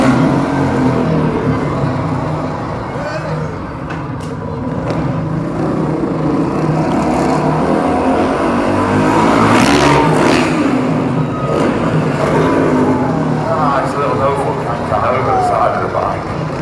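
A freestyle motocross bike engine revs at a Truckfest display in Peterborough, UK, a steady roar rising and falling in the distance under continuous talking over a loud outdoor crowd.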